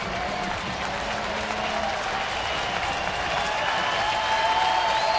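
A baseball stadium crowd of over 24,000 cheers and applauds with everyone on their feet, a dense, steady roar that swells slightly toward the end, with no one speaking over it.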